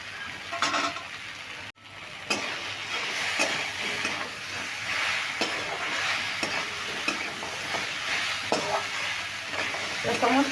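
Vegetables are stir-fried with fried lentil dumplings and roasted spice mix in a pan, a steady sizzle broken by a sharp clunk and recurring spatula scrapes, heard alone.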